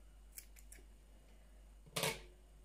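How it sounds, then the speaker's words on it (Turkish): Scissors make a single quick, crisp snip through knitting yarn after a few faint clicks, with the work being slippers knitted in purple and grey yarn, in a quiet room. "İpimizi keselim makasımızla."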